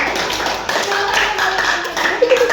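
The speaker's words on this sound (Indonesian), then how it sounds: "langsung tepuk tangan dulu untuk mereka" Students in a classroom clap for a group after a presentation, a brief burst of hand claps mixed with voices and chatter throughout.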